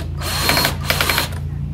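A power drill backs screws out of a headlight assembly on a 2004–2008 Pontiac Grand Prix, running in two short steady whirring bursts with a brief pause between them, close and fairly loud.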